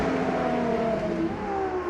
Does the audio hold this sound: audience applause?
no